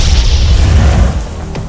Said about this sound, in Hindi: विस्फोट